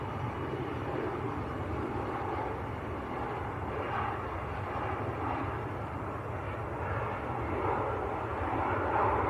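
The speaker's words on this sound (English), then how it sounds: "Loganair on the roll." A Loganair aircraft taking off at Manchester Airport, its engines a steady, distant roar that swells slightly toward the end, heard alone without talk.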